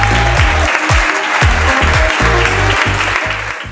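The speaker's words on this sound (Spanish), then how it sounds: "Un fuerte aplauso." Loud audience applause at a cultural gathering in a Boca Chica community hall, dense steady clapping throughout with a few brief louder bursts, no talk over it.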